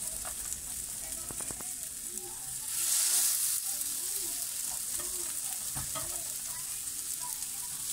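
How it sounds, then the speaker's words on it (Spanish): Bacon fries and browns in a pan with a continuous crackling sizzle, near and steady, with a brief louder hiss and a few knocks of a utensil stirring. "Mientras nuestra tocineta se va dorando"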